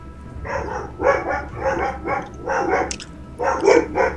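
Dogs in the video game Star Wars: The Old Republic bark repeatedly and clearly up close, with rhythmic bursts of several barks separated by brief pauses.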